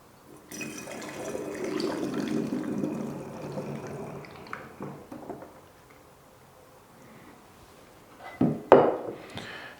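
Fruit juice pours into a bottle for homemade kefir, a steady close splashing trickle for several seconds that fades, then a brief louder clatter near the end.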